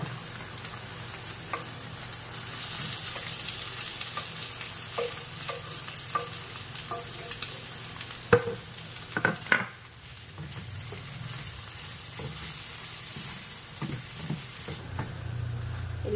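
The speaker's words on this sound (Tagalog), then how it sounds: "Ilalagay ko na yung sibuyas. Halo-haloin lang natin. Kailangan wag sunog yung ating sibuyas." Chopped onions sauté in a pan for an octopus recipe, with a steady soft sizzle and occasional scrapes and knocks of a stirring utensil. No voices.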